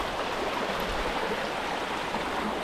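A mountain stream on a hiking trail rushes in a steady broadband wash of flowing water, loud and close, with no breaks and no voices over it.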